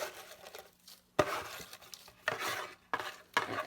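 Filler is sprinkled by hand into a covered craft bucket, giving several short rustling, crinkling bursts separated by brief pauses, close and fairly quiet.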